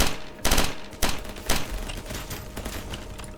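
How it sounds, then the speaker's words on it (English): PPSh submachine guns firing in the Ancient Warfare 3 video game, with several loud bursts of rapid automatic gunfire followed by quieter distant shots. "Because the PPSHs, they're able to shoot, they're decent."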